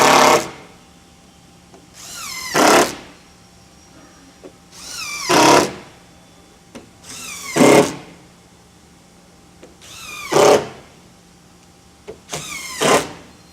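A power drill drives black drywall screws into hidden bed hardware in a series of six short, loud whirring bursts spaced a couple of seconds apart, each rising in pitch, with quiet gaps between.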